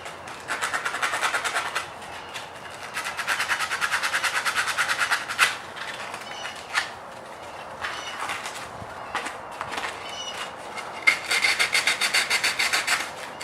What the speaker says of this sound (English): I'm going to start off with some 120 grit and then finish up with some 220 grit